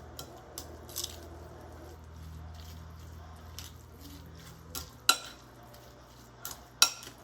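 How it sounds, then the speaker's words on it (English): Chicken salad being mixed in a bowl: soft, squishy stirring with a few light scrapes and two sharper clinks of a utensil against the bowl near the end, close and quiet. "I'm going to give this a good mix."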